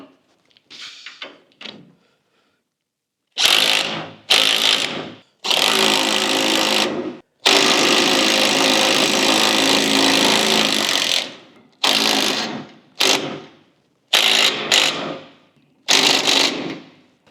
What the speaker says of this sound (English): Other side, tightening the front shackle bolts.